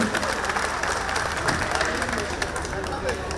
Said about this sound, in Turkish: şimdi daha güçlü alkışlarla kıymetli başkanımız Madefim'in, Madefim'imizin kıymetli başkanı Sayın Yılmaz Durmuş alkışlarla efendim davet ettik başkanım.